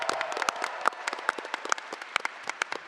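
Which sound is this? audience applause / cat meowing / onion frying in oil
audience applause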